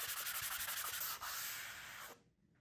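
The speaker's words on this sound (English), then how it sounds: "A belt sander with 80 grit paper took care of the bulk of it fast and accurately." Belt sander fitted with 80 grit paper grinding down epoxy on a gear repair, a loud close abrasive whir that runs continuously and then cuts off abruptly near the end.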